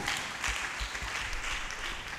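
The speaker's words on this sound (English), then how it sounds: "I think he deserves a round of applause for this." Audience applause for a speaker at a science and technology fair, a fairly faint, even patter of clapping from a distant crowd.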